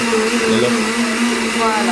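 A kitchen blender mixes ingredients with a steady, continuous motor drone that runs loud and close through the whole clip, with a faint voice underneath.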